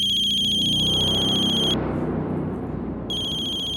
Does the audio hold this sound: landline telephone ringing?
yes